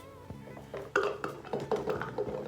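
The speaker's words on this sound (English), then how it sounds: "by just putting all my beans in here." Dry beans tipped into a blender cup for lemon pepper hummus, giving a string of short clattering knocks and rattles close by, bunched in quick bursts without speech.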